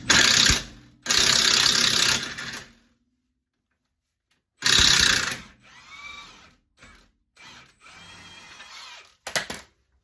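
Work on a stuck bolt on a 2008 Mazda 3 during brake and suspension repair: loud bursts of rapid mechanical ratcheting or power-tool rattling, then quieter clicking and whirring spurts with silent pauses between them, close up.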